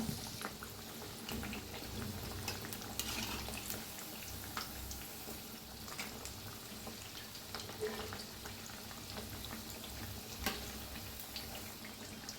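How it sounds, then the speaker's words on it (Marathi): Cabbage vadi frying in hot oil over a medium gas flame, a dense, steady sizzle and bubbling that carries on without a break, close and even in loudness, with no voices. "छान मध्यम गॅस करून ना तळून घ्यायच्या"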